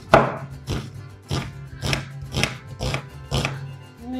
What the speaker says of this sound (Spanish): Vamos a empezar picando una cebolla chica.